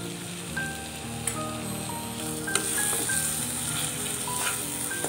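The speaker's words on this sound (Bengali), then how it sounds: "এবার ভালো করে মশলাটা কষাতে থাকতে হবে যতক্ষণ না তেল ছেড়ে দেয়।" Masala for an egg tarka is fried in oil with a bit of capsicum, giving a continuous light crackling sizzle with scattered pops and spatters, steady throughout without any voices.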